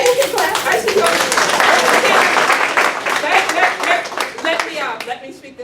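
An audience at a Gullah/Geechee Black History Month event bursts into loud, close applause that swells and then thins into scattered claps as it fades, with voices mixed in.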